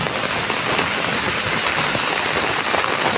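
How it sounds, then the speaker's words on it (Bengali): Heavy rain pours during a Kalbaishakhi thunderstorm, a dense, loud, continuous hiss of drops drumming on surfaces nearby, with no talk. "এত জোরে বৃষ্টি, তোমার শুধু সাউন্ডটা শোনো বুঝতে পারবে"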